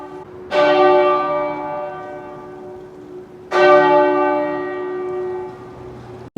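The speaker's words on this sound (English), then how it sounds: "I think they're ringing the bell in St Mary's." A church bell at St Mary's in Oxford, England, rings out in two loud, clear strokes a few seconds apart, each leaving a long resonant hum that slowly fades.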